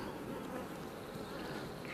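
Honeybees buzz faintly at an open beehive during hive inspection, a soft continuous droning hum with no talk.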